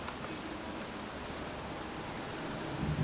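Steady pouring rain in a cemetery in the game Heavy Rain, a soft, even hiss of downpour with no distinct drops standing out, fairly quiet and unbroken.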